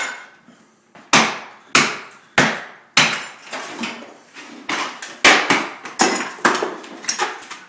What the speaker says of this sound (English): Just use the hammer, baby.